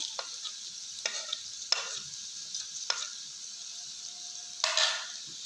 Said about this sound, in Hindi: 1 मिनट लहसुन के पेस्ट की भुनाई करेंगे